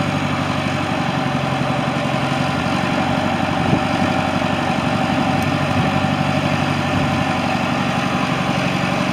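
A 1988 Blaw-Knox RW100 paving machine with a 21-inch front conveyor idles steadily close by, a low diesel rumble with faint vibration and a constant hum, running alone throughout.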